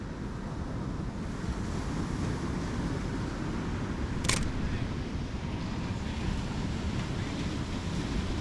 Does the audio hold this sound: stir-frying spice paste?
no